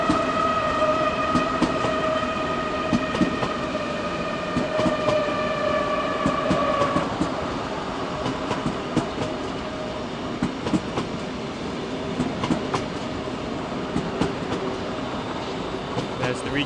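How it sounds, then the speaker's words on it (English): An S7 S-Bahn and a regional train pass outside München Hauptbahnhof in the evening, with a steady rolling rumble, rhythmic wheel clatter and a fading tonal whine from traction motors, heard close by. "In front of it is an S7 train heading into Hauptbahnhof."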